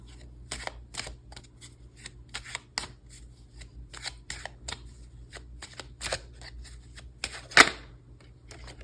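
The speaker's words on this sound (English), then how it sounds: "Let's pull a card on Cupid." A deck of tarot cards is shuffled and handled close up, giving a rapid series of crisp riffling flicks and soft card snaps across the whole stretch, with one sharper click near the end.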